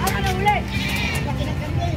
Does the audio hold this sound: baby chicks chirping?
no